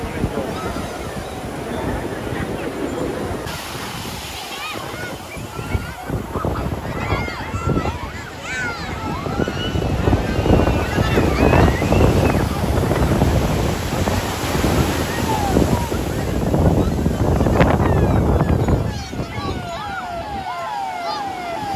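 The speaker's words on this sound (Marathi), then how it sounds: "आता ऋषिकोंडा बीच वर आलोय आम्ही" Surf and wind roar steadily at Rushikonda beach in Visakhapatnam, loud and close with gusty wind buffeting the microphone throughout, and a brief high whine running through the middle.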